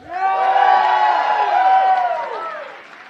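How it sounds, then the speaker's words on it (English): A live comedy club audience cheers and whoops loudly, a dense crowd roar of many voices that swells and then fades out after a few seconds. "White people, make some noise."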